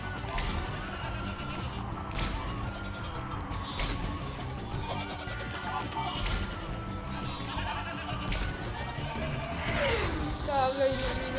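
In Plants vs Zombies Garden Warfare 2, the Illuminati goat gives several nasal bleats over game effects and crashes. A voice talks over the whole stretch.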